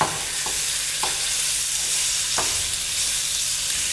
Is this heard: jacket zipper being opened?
no